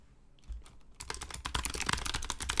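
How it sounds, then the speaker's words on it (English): Fast typing on a computer keyboard during a Magic: The Gathering draft, starting after a short quiet pause and then building into a dense, steady stream of close, crisp key clicks. "I thought maybe I could just get away with typing Denik"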